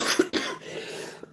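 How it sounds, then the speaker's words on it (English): A pair of short, sharp coughs close to the microphone, one right after the other, followed by a faint throat sound. "I'm sorry, I'm trying to get rid of this cough."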